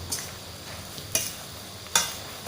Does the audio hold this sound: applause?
no